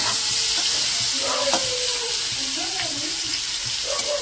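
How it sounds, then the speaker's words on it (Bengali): Dried shutki fish (batia shutki) frying in hot white oil over a high gas flame, a loud constant sizzle and hiss with bubbling and occasional stirring clatter. "তেল গরম, মাছটা দিয়ে দিলাম তেলের মধ্যে। সাদা তেল দিয়ে মাছটা ভাজবে, শুটকি মাছ,"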